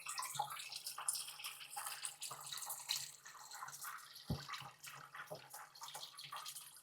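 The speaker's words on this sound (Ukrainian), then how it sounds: "як можете чути, все гарненько через бункер проціджується." Crushed white wine grapes draining through a hopper strainer during home winemaking, a soft continuous trickle and patter of juice, faint and close.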